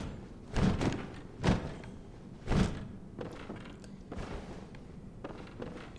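A locked door in the video game Bloodborne, struck three times with heavy dull thuds about a second apart, followed by quieter knocks and faint game ambience.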